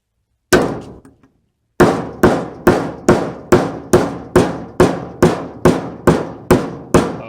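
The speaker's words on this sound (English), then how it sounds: "All I have to do is just put it on the anvil, start whacking it." Hammer blows on insulated copper wire resting on an anvil: one strike, a pause, then about eleven evenly spaced, sharp, ringing whacks in a steady rhythm, loud and close with no talking.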